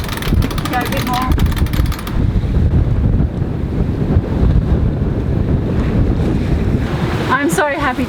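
Strong wind of about 25 knots, gusting to 29, roars across the microphone aboard a sailboat at sea, with waves rushing and washing steadily beneath. A voice cuts in briefly near the end.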